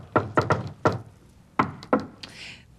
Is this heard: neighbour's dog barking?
no